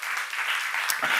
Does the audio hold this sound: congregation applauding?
yes